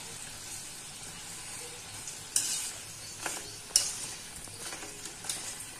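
Golgappa puris puffing as they fry in oil, a soft continuous sizzle with several sharp crackling bursts and a light utensil tap, fairly faint and with no one talking.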